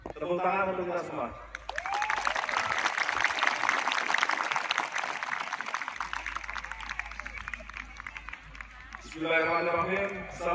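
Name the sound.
audience applause at a Santri Day ceremony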